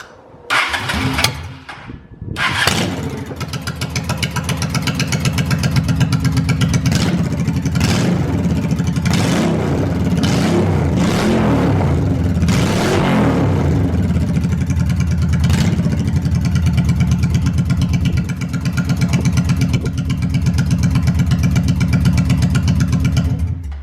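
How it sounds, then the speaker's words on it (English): A 2001 Honda Shadow 750 ACE motorcycle with a new aftermarket exhaust cranks, fires up and settles into a loud, close idle, broken by several sharp throttle blips and revs. "I'm gonna start it up in a minute and let you hear it with the new exhaust"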